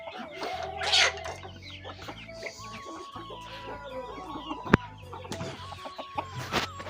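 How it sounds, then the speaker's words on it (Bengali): Free-range chickens let out of their coop in the morning cluck and squawk near and far around a farmyard, bursts of calls overlapping, with one sharp knock partway through and no speech. "সকালবেলা ঘুম থেকে উঠে মুরগিগুলোকে ছেড়ে দেখি ওরা কি করতেছে ভিতরে"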